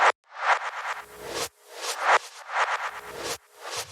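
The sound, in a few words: electronic percussion loop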